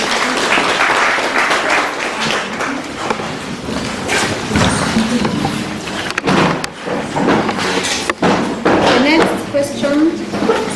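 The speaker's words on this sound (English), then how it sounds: "You can clap for her." Audience clapping after a student presentation at a girls' school science week, a dense steady patter of many hands lasting throughout, with a few sharper thumps mixed in.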